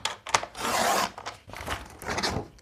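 A paper journal cover is trimmed with a few close, rasping cuts and scrapes, each lasting a moment with short pauses between them, and no voice.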